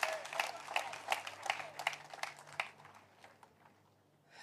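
A church congregation at a prayer service claps together in praise, a dense burst of many hands at moderate distance that gradually thins and fades out.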